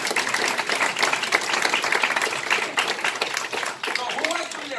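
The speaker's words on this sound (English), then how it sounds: "Big applause to the people that invite you." Audience applause at a motivational meeting in London, a moderately loud, continuous patter of clapping with voices and cheers mixed in toward the end.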